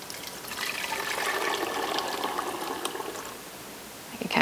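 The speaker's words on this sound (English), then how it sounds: "We just pour this into my fat separator pitcher here." Beef bone broth poured from a pot into a fat separator pitcher, a steady splashing liquid stream running for several seconds up close, easing off near the end before a brief clatter.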